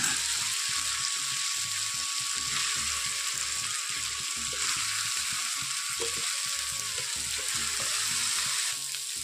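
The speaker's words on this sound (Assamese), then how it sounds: "মছলাখিনি মই অলপ ভাজি লৈছো আৰু এতিয়া দি দিম মই কাটি লোৱা বন্ধাকবিখিনি।" Chopped cabbage hits a pan of fried onion and spices with a steady, close sizzle that hisses on without pause and has no voices over it.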